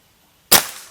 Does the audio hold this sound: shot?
yes